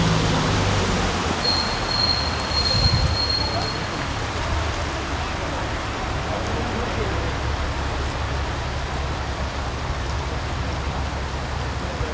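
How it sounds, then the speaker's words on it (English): Heavy rain pours steadily in Chinatown, Mauritius, a dense unbroken hiss on surfaces close by, with a faint tone briefly audible early on. "unfortunately it's raining a lot"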